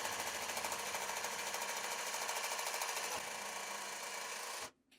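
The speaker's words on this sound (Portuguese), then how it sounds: "a gente vai passar uma costurinha aqui na beira e depois uma costura aqui no meio, para deixar ele bem firme" A sewing machine runs steadily, stitching an elastic waistband on a pair of shorts with a fast, even mechanical chatter that carries on for several seconds, then stops abruptly near the end.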